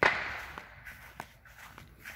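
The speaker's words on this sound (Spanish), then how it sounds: "Si ustedes escuchan, están echando cuetitos los niños ahí." Children setting off small firecrackers outdoors nearby during an Independence Day celebration: a sharp crack at the start followed by several scattered, fainter pops spaced about half a second apart.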